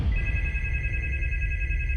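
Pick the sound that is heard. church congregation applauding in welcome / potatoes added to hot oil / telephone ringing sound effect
telephone ringing sound effect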